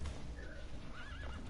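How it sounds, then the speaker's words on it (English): A horse in Assassin's Creed II lets out a whinny that rises and wavers over low game ambience, with faint hoof clops mixed in, moderately close and brief. "Even the horse is trying to kick you because you're taking so long."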